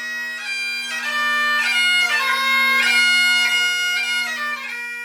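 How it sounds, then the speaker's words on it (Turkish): A Scottish bagpipe plays on a farm in Scotland, a steady drone under a bright, loud chanter melody, sustained and continuous without pause. "İskoçya'nın verimli topraklarında yankılanan bu gayda sesi Nesmith çiftliğinden geliyor."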